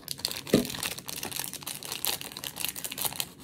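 Plastic wrapping on a Temu haul package is cut and torn open with scissors, giving short, close crinkling and crunching rustles at low volume, with one sharper snip near the start.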